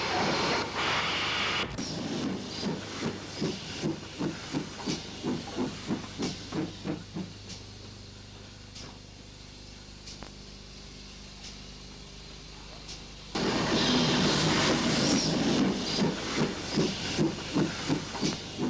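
A GWR 5700 class pannier tank steam locomotive, number 9789, loose shunts a wagon in a former LMS goods yard in the 1960s, giving off rhythmic chuffs that slow and fade, then a loud hissing blast of steam with quick exhaust beats returning.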